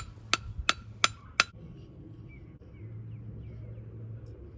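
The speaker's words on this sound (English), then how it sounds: "I'm just using a hammer. Just tap her in." Four sharp metallic hammer taps, evenly spaced, drive a bushing into a Mazda Miata drift car part, ringing close and loud over a low workshop hum, then quiet.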